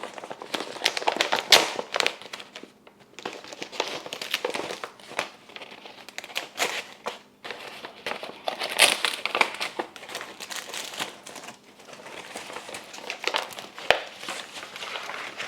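Crinkly plastic packaging around mailed plants is unwrapped and handled close by, giving irregular bursts of crackling and rustling with brief pauses in between.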